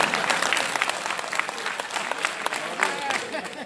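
Audience applause at a mushaira poetry gathering at Aiwan e Ghalib in Delhi, a steady dense wash of many hands clapping throughout, with no break.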